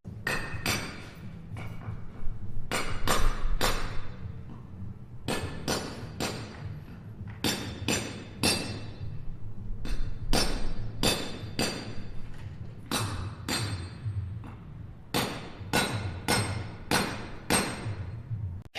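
Hammer blows chiselling a cable channel into a house wall during a discreet aerial and satellite install, coming in rapid bursts of sharp, close impacts with short pauses between groups, loud throughout.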